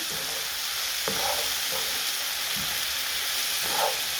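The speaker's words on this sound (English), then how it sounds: "Now I'm adding to this a teaspoon of soy sauce, and then stirring." Oyster mushrooms with a splash of superior dark soy sauce are stirred in a hot pan, a constant hiss of frying with a few dull scrapes of a spatula spaced through the clip.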